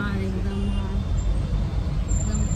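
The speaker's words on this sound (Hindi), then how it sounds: "यहाँ पे कच्चा कच ट्रॉफिक है, ट्रॉफिक बहुत है" Heavy street traffic fills the scene with a dense, loud rumble of buses, cars and trucks passing nearby, someone talking over the continuous roadway noise.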